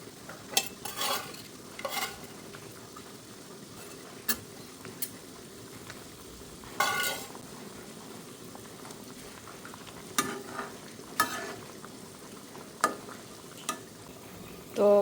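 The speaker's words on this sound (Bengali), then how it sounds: "বাটা মাছ দিয়ে পটলের তরকারি রান্না করছি, মাত্র বলক এসেছে" Bata fish and pointed gourd curry simmers in a pan just come to a boil, with a low bubbling bed broken by scattered clinks and scrapes of stirring, some sharp and close, spread across the whole stretch.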